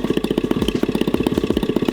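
A cheap AliExpress paramotor engine with leaking exhaust runs on the ground, a loud, close, rapid pulsing putter with a sharp rhythmic beat and mechanical clatter, alone without voices.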